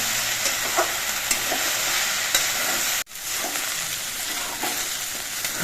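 Steady crackling sizzle of okra and potato frying in a pan, with soft scraping stirs now and then and a brief dip midway.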